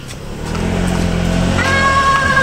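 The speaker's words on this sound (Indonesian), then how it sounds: "Motorrad ist das." A motorcycle passes nearby on a dim evening street, its engine drone rising and swelling over a couple of seconds, loud and close, with no talk.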